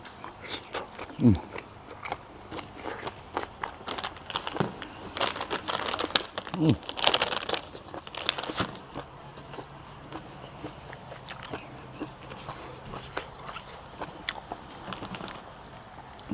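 Close-up chewing and biting through a spicy papaya-style salad with rice noodles and squid, wet smacking and crunchy bites repeating steadily with a few louder clatters.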